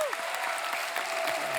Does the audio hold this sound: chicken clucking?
no